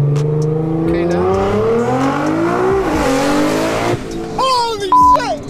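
A 2014 Nissan GT-R accelerates hard in first and second gear, its engine note climbing steadily before tires squeal in sharp, wavering chirps near the end, with people talking and exclaiming inside the car.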